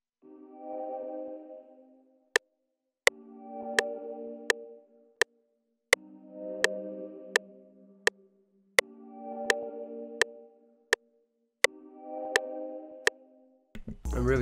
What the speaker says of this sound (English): sign one shot from one of Goop the Truth's one shot kits